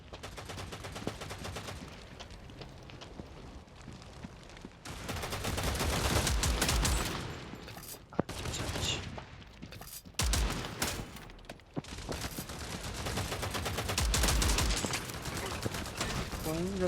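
Rapid bursts of gunfire from a World War Heroes mobile shooter game ring out across the clip, mixed with loud game effects and background music.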